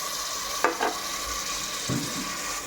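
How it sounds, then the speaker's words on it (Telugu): Tomatoes hit hot oil in a pan with a steady soft sizzle, with a couple of brief stirring scrapes, fairly quiet and close. "సో ఇప్పుడు మేము టమాటాలు వేసుకున్నాం ఫ్రెండ్స్"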